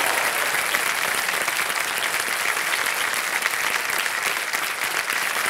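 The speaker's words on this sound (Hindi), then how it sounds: "ताली आप बच्चों के लिए।" The studio audience of the TV quiz show Kaun Banega Crorepati claps loudly and steadily, a thick, even wall of applause that lasts the whole stretch without a break.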